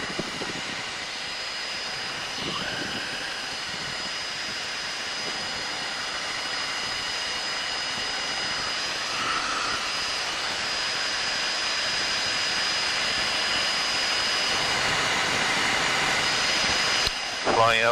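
A low-flying aircraft at about 350 feet makes a continuous, loud engine drone with a steady whine over broadband rushing noise. The sound stays nearly constant for the whole stretch.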